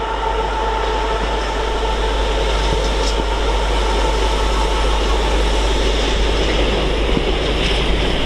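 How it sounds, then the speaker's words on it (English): DB Cargo class 66 locomotive 66002 hauls a loaded freight train from Wakefield to Felixstowe at Doncaster, a loud, continuous rumble and wheel roar close by with no talking. "This time it's a DB Cargo 66 and it is 66002, working a freight service from Wakefield to Felixstowe"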